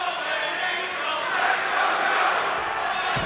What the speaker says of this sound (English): As we hear the crowd,